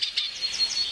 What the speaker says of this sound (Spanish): es imposible no escuchar la sinfonía de las aves